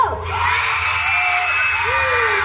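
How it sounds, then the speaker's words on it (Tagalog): An audience at a Linggo ng Musikang Pilipino event shouts and cheers together, a loud, sustained wash of excited voices and high whoops with no pauses. "bakit sila na sumisigaw?"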